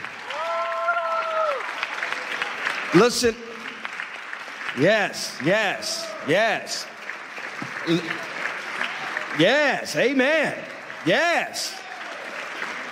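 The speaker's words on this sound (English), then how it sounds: "can we give all of our wonderful speakers a big hand clap?" An audience at an interfaith conference claps in a steady, sustained round of applause, while a speaker's voice calls out over the clapping.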